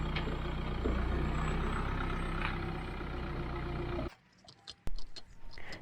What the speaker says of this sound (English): leaving it running for a few minutes to warm up the